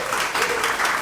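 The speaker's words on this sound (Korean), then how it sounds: "큰 박수 부탁드리겠습니다." A short burst of full, close audience applause at a business seminar, dense and continuous without a clear break.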